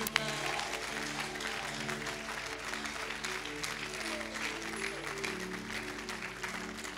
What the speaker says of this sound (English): you are clapping, clap well for Jesus